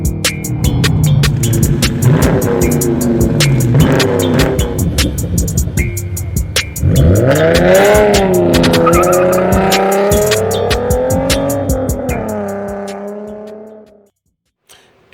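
A ceramic silver 2022 Kia Stinger GT-Line with a turbocharged 2.5-litre four-cylinder revs hard, its exhaust rising and falling through repeated loud blips and sweeps before cutting off sharply near the end.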